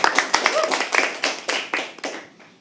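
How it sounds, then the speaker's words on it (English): Audience applause at a live poetry open mic, a dense burst of many hands clapping that swells in uneven waves and gradually thins toward the end. "you deserve more louder claps than this"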